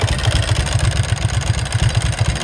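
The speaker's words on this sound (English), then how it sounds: "That's the classic Ducati sound right there." A Ducati Streetfighter engine idles up close with the uneven, loping pulse of a big V-twin, a steady low throb of regular beats and no voices over it.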